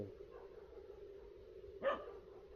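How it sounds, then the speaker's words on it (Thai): A dog gives one short bark around dawn. It is distant and faint, rising once over a quiet, steady low hum. "หมาก็เห่า"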